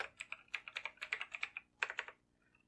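Fingers tapping a computer keyboard while entering a spreadsheet scenario name, a quick burst of close, quiet keystrokes followed by a short pause and a few more presses.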